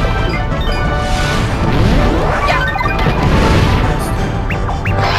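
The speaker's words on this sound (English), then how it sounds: "Benji, control the side boat and do a ground pound" A ground pound slams down in the Mario & Luigi Paper Jam video game, a loud smashing crash amid dense, busy game noise that runs through the whole stretch with a few sharp metallic zings near the end.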